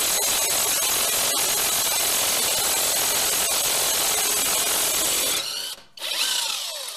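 A cordless power wrench on a partly charged battery hammers at a front hub bolt on an Infiniti FX35 during a hub bearing replacement. The rattling impact runs loud and close for over five seconds, stops briefly, then resumes.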